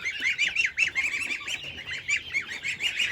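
Geese and ducks in a farmyard poultry run honk and quack in a busy, continuous chorus of overlapping nasal calls, close and fairly loud, with no one talking.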